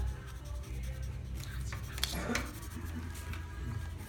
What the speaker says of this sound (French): Continuez à colorier ça.